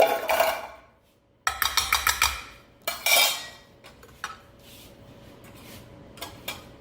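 Broccoli cheese casserole gets mixed in a big pan with a metal utensil, producing bursts of clinking and scraping against the pan separated by quiet pauses, then lighter taps.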